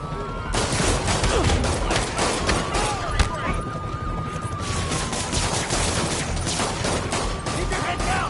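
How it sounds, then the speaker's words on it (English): Dense, sustained gunfire shootout in Marvel's Spider-Man, with rapid overlapping shots and bursts filling the whole stretch at close, loud range, with voices calling out beneath the barrage. "That shootout's gonna get someone killed."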